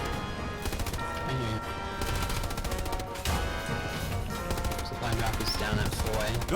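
Machine gun and gunfire in a video game battle with friendly tanks moving up, rapid rattling bursts going on without a break and loud near, with explosive crashes mixed in.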